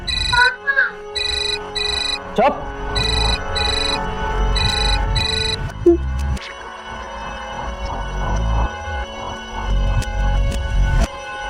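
A phone ringtone plays in a tense domestic scene, a repeating electronic melody in regular bursts that continues throughout, with a brief word spoken and background music underneath.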